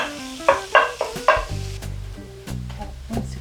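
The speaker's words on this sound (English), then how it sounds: "then you gotta fry it in this fat" Food frying in fat in a pan while a holiday dish with built-in gravy is being cooked, heard as a close, steady sizzle with several sharp stirring scrapes and clatters over the first seconds and no talk.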